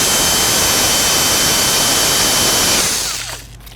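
Electric drill running steadily under its own weight while sanding and polishing an ebony plug, a loud continuous whine that winds down and cuts off near the end.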